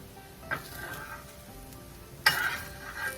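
Akki roti made with hyacinth beans and rice flour cooks open on a pan, a soft steady sizzle with a couple of sharper crackling bursts, fairly close.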